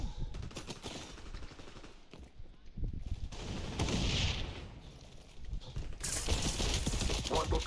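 Bursts of rapid gunfire in the video game XDefiant crackle through much of the clip, loud and repeated, with a voice speaking over parts of it.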